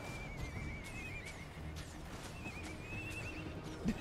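Horses neighing and galloping in the Guild Wars 2 game, a dense low rumble of hooves running steadily throughout with repeated whinnies rising above it, loud and continuous with no talk.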